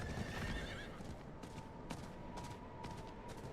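A horse in the video game Diablo 4 whinnies, then its hooves clop in a steady galloping rhythm under faint background game noise, fairly quiet and with no voices.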